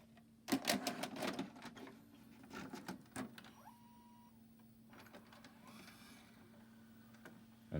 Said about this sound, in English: I just have to insert the tape in.